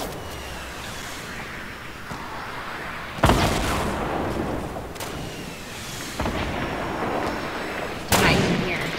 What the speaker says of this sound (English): Oh, I got a grenade launcher! I got a grenade launcher. I should use that.